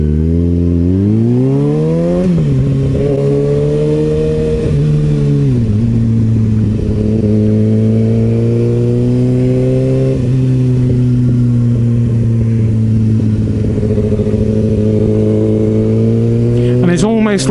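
A Kawasaki ZX6R motorcycle engine runs loud and close, revving up and down in long sweeping pitch changes, with a sharp burst near the end.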